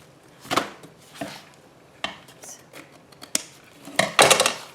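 Scissors snip and trim paper for a grungy junk journal: a series of sharp, close cuts spaced unevenly, ending in a brief cluster of quick snips.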